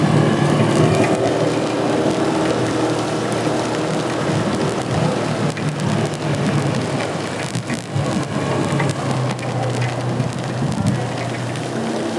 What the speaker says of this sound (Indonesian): Sejak dari start sudah hujan lebat